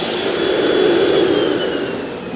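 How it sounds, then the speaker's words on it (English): A Goodway CD-520 continuous-duty industrial vacuum roars steadily while picking up steel shot, a loud, dense broadband rush with a faint high whine running through it. "Turn the vacuum off, let it come to rest."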